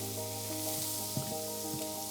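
Shallots sizzle steadily in a hot frying pan, close and continuous, with a few soft stirring bumps and no voices.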